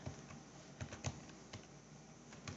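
A few soft key presses on a computer keyboard while entering fields in a LibreOffice database, faint and sparse clicks over a quiet background hum, with no talking.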